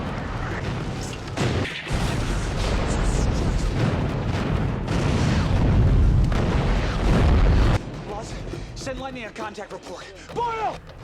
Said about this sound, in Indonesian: kompi E segera memanggil artileri jarak jauh untuk menuntaskan pertempuran ini